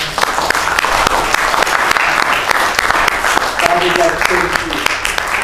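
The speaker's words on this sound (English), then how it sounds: "let's just give God a powerful clap offering right now." A church congregation gives sustained applause at the close of a sermon series, with crackling claps throughout and a man praying aloud over the clapping toward the end.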